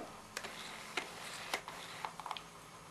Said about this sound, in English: That sound was actually the lens focusing from one extreme to the other and back again